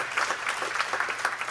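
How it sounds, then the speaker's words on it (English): An audience at a fintech demo day event claps in a brief, steady burst of applause, many hands patting together at close range with no voices over it. "I wish everybody would please give them a round of applause for all their efforts"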